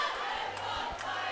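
Crowd at a roller derby match cheering and shouting, a steady loud wash of voices with a few sharper yells rising out of it.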